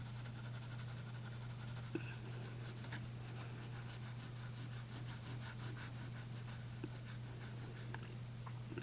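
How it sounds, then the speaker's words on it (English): A fingernail scrapes at a polymer clay bracelet with a faux leather finish, making a steady, close run of fine rasping strokes over a constant low hum, with no talk. "Just trying to scrape off what I can with my fingernail."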